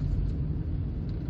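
A 2006 Peugeot Expert 2.0 HDi van drives along a road, its engine and road noise forming a steady low rumble heard alone for just over a second.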